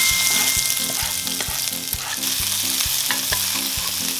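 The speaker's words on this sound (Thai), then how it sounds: "ใส่ลงไปครับพริกกระเทียม" Chili and garlic hit smoking-hot oil in a wok, giving a loud, continuous sizzle with rhythmic thumps of the wok or spatula underneath; no talking.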